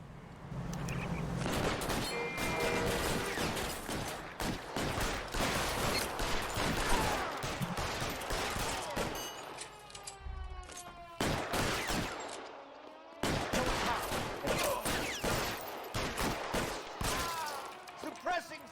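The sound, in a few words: gunfire in shootout, video game L.A. Noire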